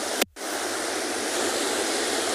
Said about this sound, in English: So we're just watching these very small, very gentle waves meet with the land